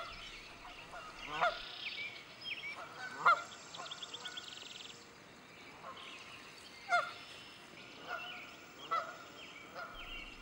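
Feral mute swans in Ontario give a series of scattered honking calls, some near and some softer, spaced irregularly over open background.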